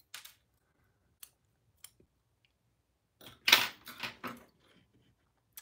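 Scissors snip through crochet yarn with a few sparse, faint clicks, then a quick cluster of close metallic cuts and handling sounds in an otherwise quiet room.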